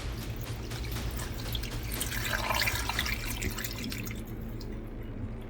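Water poured into a crock pot of beef fat for wet-rendering tallow: a steady splashing trickle that swells in the middle and tapers off near the end.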